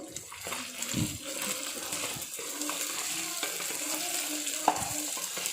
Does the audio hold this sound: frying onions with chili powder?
yes